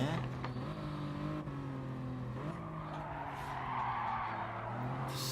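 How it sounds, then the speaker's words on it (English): Race car tyres squeal under load in a sim racing game of a BTCC league round at Catalunya, a sustained tonal whine over steady engine drone, with commentary running throughout. "tyres squealing, racing softs on board for Ricky J."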